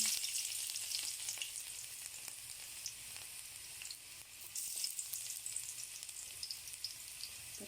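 Chopped garlic (bawang) frying in a pan for a sardines-with-egg dish: a faint, continuous hiss and sizzle with small crackles, steady throughout with no talk.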